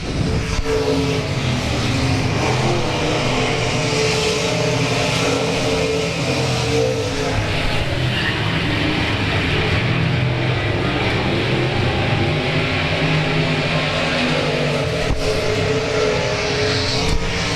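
Dirt track race cars roar around South Texas Speedway in a dense, continuous wall of engine noise, revving and droning loudly throughout with no break.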